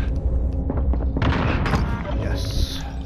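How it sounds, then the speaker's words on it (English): A grenade blast in the Warzone video game, a dense low thump with broadband debris swelling mid-clip, heard amid game noise with voices talking over it. "Throwing grenade."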